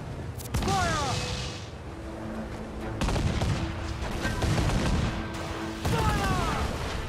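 Cannon and gunfire volleys boom in a video game sea battle with sails, arriving in several loud bursts a few seconds apart over a steady rumble, with raised voices in the mix.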